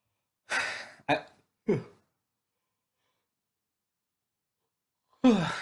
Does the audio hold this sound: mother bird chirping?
no